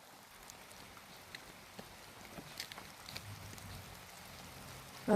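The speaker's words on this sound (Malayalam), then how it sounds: "നല്ല മഴ വരുന്നുണ്ട്" Rain falling in a hilly village, a soft steady hiss of drops with scattered faint patters, fairly distant and even, ending with a brief louder bump.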